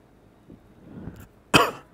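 A single sharp cough bursts out close by after a few soft throat sounds, loud and brief against near silence.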